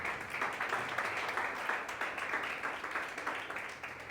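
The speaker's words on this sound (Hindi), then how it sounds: "तालियां बजाएं।" Members of a church congregation clap together during a worship service, a fairly quiet but steady patter of many hands that continues evenly throughout without speech.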